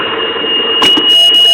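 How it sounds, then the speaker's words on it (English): A 2002 Sea-Doo GTX oil pressure warning alarm sounds as a steady, loud, piercing high-pitched tone held throughout, with engine-bay clatter and a few sharp knocks underneath as the sensor fault is traced. "The alarm is still going. You can hear it."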